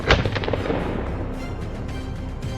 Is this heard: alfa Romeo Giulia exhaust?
no